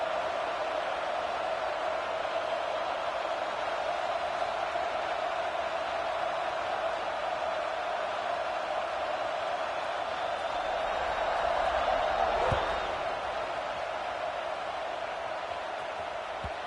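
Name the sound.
stadium crowd buzzing in video game College Football 26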